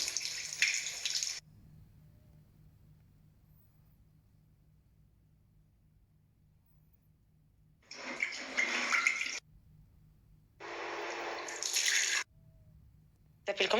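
Water running from a tap in a home, heard as three separate loud bursts of rushing flow with quiet gaps between them and faint talk.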